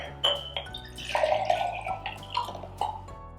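Water is poured into corn flour while making oobleck, giving splashy trickles and drips with a hollow liquid ring, several separate pours and splashes, close and moderately loud.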